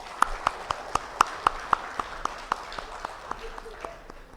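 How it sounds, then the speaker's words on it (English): Sparse, steady hand clapping from an audience at an annual general meeting, welcoming the chief guest; a few distinct claps repeat at a quick, even pace and fade toward the end, with a faint voice underneath. "May I request all to please welcome our chief guest with a round of applause."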